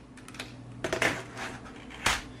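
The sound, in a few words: flipping over a Logitech MK320 keyboard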